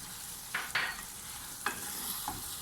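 Raisins stirred into makhandi halwa in a pan, a soft continuous sizzle broken by a few sharp spoon scrapes and clinks, close and quiet.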